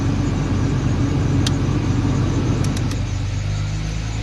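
A Ford Sierra XR4x4 fitted with a 2.9 24-valve Cosworth engine idles steadily nearby, a low, even rumble with a few faint clicks and a slight drop in tone near the end.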